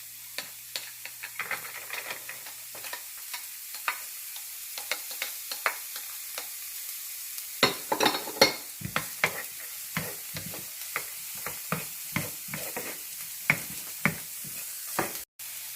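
Carrot sizzling in a frying pan while being stirred, with repeated sharp scraping and clacking strokes in an irregular rhythm over a soft frying hiss, close and fairly quiet, no talking.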